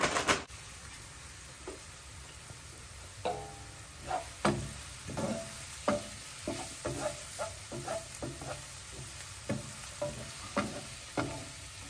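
Food sautés and sizzles in a pan with a steady frying hiss, broken by a string of clinks and scrapes as it is stirred. The sound is close and moderately quiet, with no talking.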